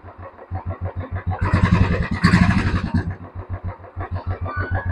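A second-hand motorcycle engine at a used bike dealer thumps in a steady rhythmic idle, rising to a louder, rougher rev midway before settling back to the even putter.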